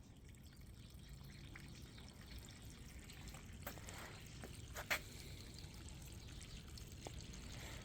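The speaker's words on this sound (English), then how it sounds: "Let it drip into a towel." Water trickles and drips from the drain of a newly installed water heater, a faint steady flow with a few small splashes over a low background hum, no voices.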